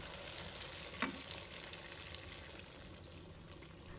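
Beaten egg and tofu frying in oil in a pan over medium-low heat, a soft, steady sizzle and hiss heard close but quietly, with one brief clink partway through.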